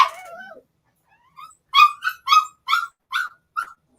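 A dog barks in a short series of about six sharp, close, separate barks after a brief whimper, with silence between them and no talk over it.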